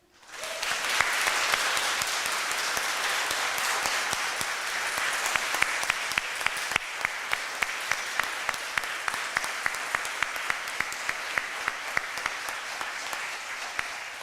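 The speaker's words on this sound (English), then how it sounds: "I'd like to invite everyone to give a special round of applause to all our graduates here and online." A graduation audience at Griffith College Cork in 2025 applauds the graduates with steady, full clapping that rises quickly and holds evenly for over ten seconds, with no talking over it.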